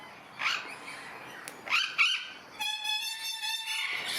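Exotic parrots and conures in a bird park aviary give loud, harsh squawks and screeches, followed by a sustained tonal, horn-like call near the end.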